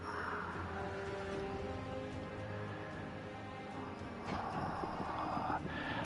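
In the DioField Chronicle video game, horse hooves clip-clop steadily under a dense, continuous wash of game sound, muffled and fairly faint.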